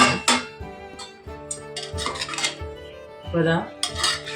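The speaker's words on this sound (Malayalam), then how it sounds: "നമുക്കിനി ഒന്നും കൂടെ അത് തുറന്ന് നോക്കാം എന്തായി" Metal pot lid lifted off a cooking pot of avial, heard as close clattering and clinking of cookware with a few sharp knocks and scrapes, no talking.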